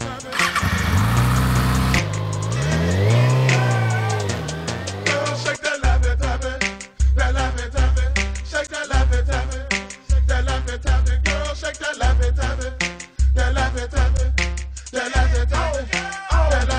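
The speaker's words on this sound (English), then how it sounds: "It's a 2009 Kawasaki Ninja ZX6R." A 2009 Kawasaki Ninja ZX6R sport bike with a stock 107-horsepower engine revs loudly in rising, wavering sweeps. A steady, pulsing bass beat follows and continues to the end.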